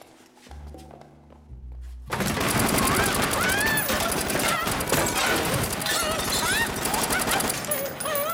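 Sustained automatic gunfire from a Kalashnikov machine gun, a dense loud burst of rapid shots that erupts after a quieter lead-in and rattles on continuously to the end.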